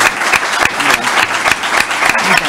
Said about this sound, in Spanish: nuevamente un aplauso